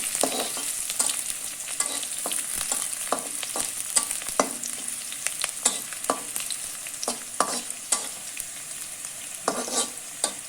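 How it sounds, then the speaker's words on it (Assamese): Steady frying sizzle of onions and whole cumin in a pan with repeated scraping and stirring clicks, close up and continuous, no voices. "এতিয়া গোটেইখিনি মিক্স কৰি মই ভাজিম।"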